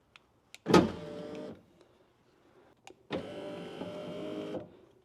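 An electric power window on an E31 BMW 850i motors along in two runs: a clunk starts each steady whining hum, and a short quiet gap with faint clicks separates them. Close and moderately loud.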